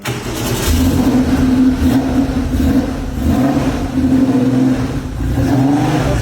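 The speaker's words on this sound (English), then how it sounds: "So we're getting the engine started." A Porsche 964 RS engine turns over and runs with throaty revs that rise and fall, close and loud for about six seconds, with no speech.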